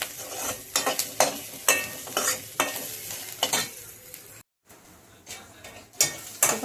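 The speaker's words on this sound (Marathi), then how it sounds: "आणि हे खोबरं भाजून घेतलं इथं. खोबरं आणि हे कांदा आणि लसूण टाकले त्याच्यामध्ये." Grated coconut roasts with onion and garlic in a pan, a spatula stirring and scraping in repeated close strokes over a soft sizzle, with one brief silent gap.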